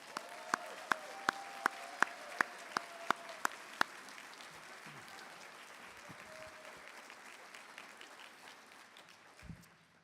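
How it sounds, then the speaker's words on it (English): Parents in an audience at a National Honor Society induction ceremony applaud the inducted students: a run of sharp, evenly spaced claps up front gives way to a softer, sustained wash of clapping that tapers off. "Give your kids a round of applause."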